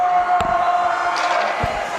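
A hockey crowd reacts loudly and steadily to a disputed goal in a game against Weston, with a sustained tonal note and a few dull thuds over the noise.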